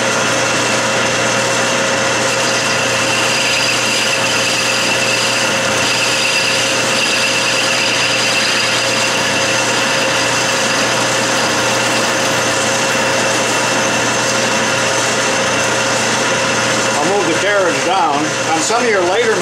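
A lathe running at 600 RPM parts 7/8 aluminum stock with an Iscar cutoff tool under hand feed, giving a loud, continuous motor hum and cutting whine.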